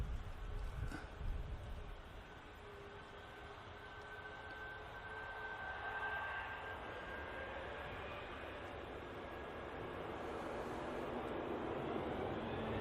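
A Ryanair airliner at Manchester Airport makes a distant, faint jet roar that swells slowly and holds steady, with a soft whine running through it.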